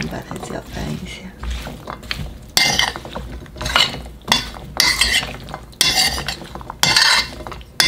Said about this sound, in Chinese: 我们把它搅拌一下。